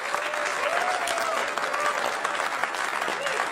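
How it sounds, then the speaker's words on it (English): Comedy club crowd clapping steadily at a live stand-up show, a dense even patter of many hands with some scattered voices mixed in, continuing for several seconds. "All the straight men clap it up."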